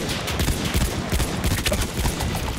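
Sustained rapid gunfire in the Battlefield 1 online video game, a dense continuous stream of close, loud shots with no pauses.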